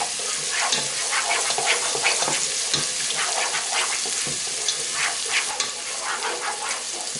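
Garlic sizzles in a pan of oil over medium heat for a fish stew, a continuous crackling fry with small spattering pops scattered through it, close and uninterrupted by talk.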